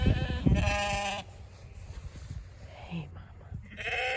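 A Katahdin sheep bleats loudly up close at the start, then softer rustling and faint movement follow, with another short bleat later.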